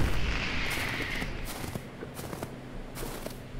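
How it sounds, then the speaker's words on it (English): Fireworks going off in the Crimson Snow horror game: several distant booms and sharp cracks spaced a second or so apart over a dull rumbling bed, with no talking. "I appreciate the fireworks show, though."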